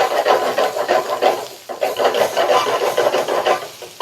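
Ridge gourd frying in a pan for chutney, a steady loud sizzle and hiss with rustling scrapes as the pieces are tossed, briefly dipping before the sizzle surges back.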